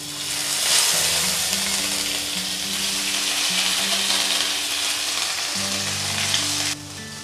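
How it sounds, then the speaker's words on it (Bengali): Onion, ginger and garlic paste sizzling in hot oil in a pan, a steady loud frying hiss with soft stirring scrapes, close up and without talk. "পেঁয়াজ রসুনটা আমি ভালো করে ভেজে নেব যতক্ষণ পর্যন্ত কাঁচা গন্ধ না যায়"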